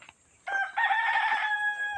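A single loud rooster crow rings out close by, drawn out for over a second against a quiet background.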